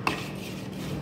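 A utensil clinks once against a dish while a vegetable cream dish is mixed, followed by soft, faint scraping.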